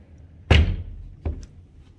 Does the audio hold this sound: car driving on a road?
no